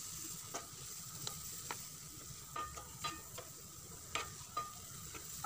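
Chopped onions sautéing in coconut oil, a soft, low sizzle broken by about a dozen sharp spatula scrapes and taps at an irregular pace, close but quiet, with no speech.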